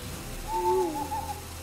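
A single owl hoot from the Iron Beak Owl card in the Hearthstone video game, a clear tonal call played alone over quiet background.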